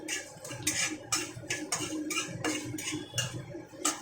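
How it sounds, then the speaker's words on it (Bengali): Dried chili, bay leaf and five-spice sizzle in hot oil for poi bhitoli, giving off steady close crackles and pops in a fairly regular ticking rhythm over a soft frying hiss. "ফোড়নটা একটু চটচট করছে, কালো হয়ে গেছে।"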